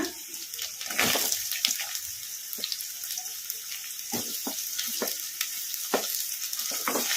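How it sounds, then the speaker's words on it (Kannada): Sliced onion fries in hot oil in a pan, after garlic, for egg fried rice, giving a steady close sizzle broken by repeated sharp scraping stirs, with no talking. "ಉಳ್ಳಾಗಡ್ಡಿ ಏನು ಜಾಸ್ತಿ ಫ್ರೈ ಆಗೋದೇನು ಬೇಡ ಒಂದು ಎರಡು ನಿಮಿಷ ಎಣ್ಣೆಗೆ ಫ್ರೈ ಮಾಡ್ಕೊಂಬಿಡೋಣ"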